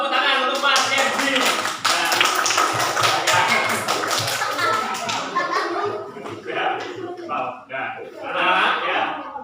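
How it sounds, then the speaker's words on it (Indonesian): Children in a classroom clap their hands in a burst of quick, loud, closely spaced claps that thin into scattered taps, with a teacher talking and children's voices mixed in. "tepuk tangan untuk Mas Kenzi"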